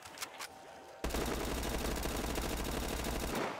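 Loud, rapid automatic gunfire from a weapon in Call of Duty Black Ops 3 bursts in after a short quiet stretch and runs continuously for about two and a half seconds before cutting off.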